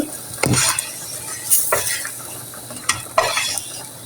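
Eggplant slices frying in a pan while being stirred, with loud scraping strokes of a utensil against the pan over a continuous sizzle.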